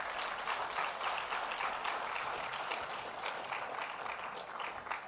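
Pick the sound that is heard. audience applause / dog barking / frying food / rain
audience applause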